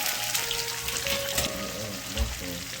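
Red bell pepper and onion frying in a pan, a steady moderate sizzle with a few soft taps and shuffles as the pieces are tossed around.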